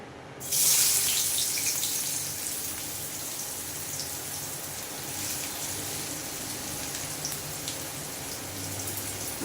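Chopped onions dropped into hot oil for a Bengali masala brinjal dish, a sudden loud hiss bursting in at once then settling into a steady, broad, close sizzle that continues with no talking.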